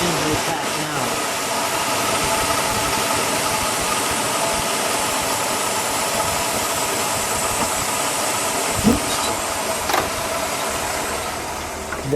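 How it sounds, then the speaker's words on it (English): A 1965 Cadillac Eldorado convertible engine idles smoothly and steadily up close, a continuous even hum with a faint brief clunk near the end and no speech over it. "let me just listen to it idle"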